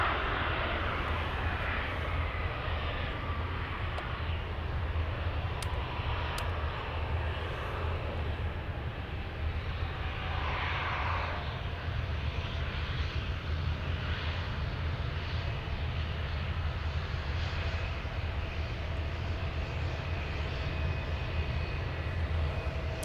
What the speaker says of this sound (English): a CRJ touching down right now